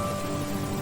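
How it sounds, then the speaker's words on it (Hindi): Rain falls steadily as an even, dense hiss with a faint constant tone beneath it, brief and unbroken. "अरे नहीं, बारिश शुरू हो गई।"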